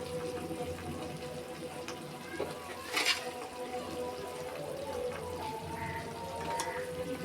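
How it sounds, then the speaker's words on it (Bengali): Raw mango pickle bubbling in a pot on the stove, a soft steady simmer with faint popping bubbles and an occasional louder splash or clink, quiet and continuous. "আমের আচারটা ফুটতেছে, পরিমাণ মতন নুন দিয়ে দিলাম।"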